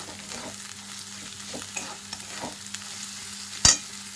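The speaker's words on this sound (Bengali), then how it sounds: "একটু কাশ্মীরি লঙ্কার গুঁড়ো দিলাম রংটার জন্য যতক্ষণ না হলুদের গন্ধটা চলে যাচ্ছে ততক্ষণ এটা একটু ভালো করে ভাজা ভাজা করবো" Spices with Kashmiri chili powder and turmeric fry in a pan for tarka, a soft continuous sizzle broken by light stirring scrapes and one sharp metallic clank near the end, no speech.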